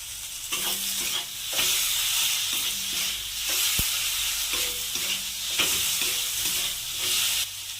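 Chopped tomatoes and four green chillies fry in a pan for a cauliflower, potato and rui fish sabji, a steady close sizzle under repeated stirring scrapes and soft utensil knocks, with no voices.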